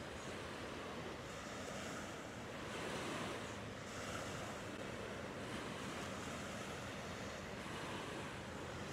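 Ocean waves lap steadily on the shore at Carkeek Park, a continuous soft wash of surf with gentle swells and light wind noise, with no voices.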